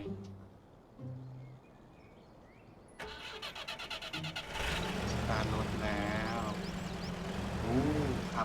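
A truck engine in MudRunner starts with a sudden rumble, then revs and pulls away, rising into a steady loud drone as it drives off along a road; a voice speaks over it.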